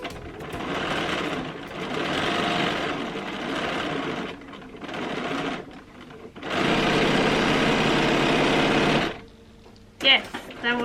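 A Bernina sewing machine stitching a quilt row, its motor buzzing in several bursts of varying length separated by short pauses, close and fairly quiet.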